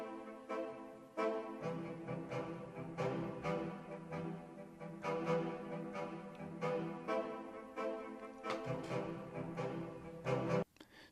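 A woodwind ensemble plays a series of sustained, overlapping flute notes with distinct attacks, moderately loud, with a short pause near the end.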